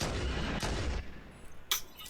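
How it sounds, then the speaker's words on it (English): Sniper rifle shots ring out in the Halo video game, on the Legendary-difficulty Truth and Reconciliation level. A sustained booming blast opens, then a second sharp report follows later, with a faint tail. "Wasted 2 sniper bullets and almost took out my Marine."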